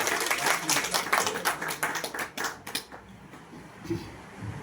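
Audience applause at a business meeting in Tharad, a dense burst of loud clapping from a crowd that thins and fades over a few seconds.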